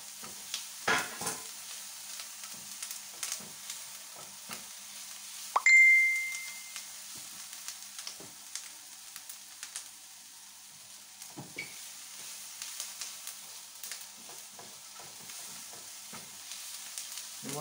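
Two cloves of finely chopped garlic stirred in a pan, giving faint scattered scraping and light sizzle with a sharp metallic clink partway through, otherwise quiet.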